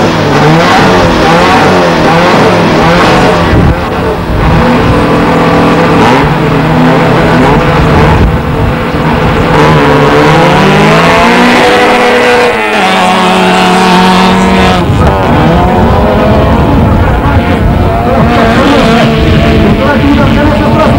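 Race cars on a stadium track at a Belarus Cup meet: loud, continuous engine roar with rising and falling revs as several cars pass and accelerate close by, with a commentator talking over it.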